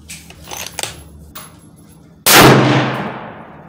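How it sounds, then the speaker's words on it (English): A Ruger American Go Wild .308 rifle firing a 150-grain round at a target: one loud, sharp shot with a lingering decay, preceded by quiet handling noises. "Left lower target, 3 shots."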